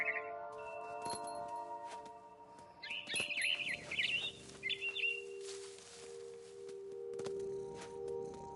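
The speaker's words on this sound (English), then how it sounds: "Then I heard chirping outside my window. It was a barn swallow going back to her nest." Barn swallow chirps sound in What Remains of Edith Finch: bursts of quick, high twittering in the middle stretch, set against quiet ambient game tones and occasional bright clinks.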